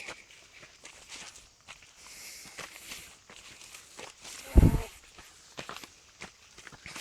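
Footsteps of several people walking up to a temple, Wat Phra That In Khwaen in Lamphun, soft irregular steps close by with one louder scuff near the end, faint voices around.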